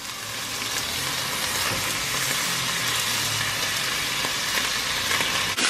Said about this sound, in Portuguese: agora vamos jogar a cebola e o pimentão